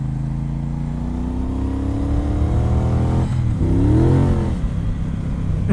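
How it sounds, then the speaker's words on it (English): A 2018 Triumph Bonneville Speedmaster motorcycle engine revs up while accelerating, its pitch climbing steadily, dropping at a gear shift, then rising again, loud and close with no talking. "Because the revs are just freely going up and up and up."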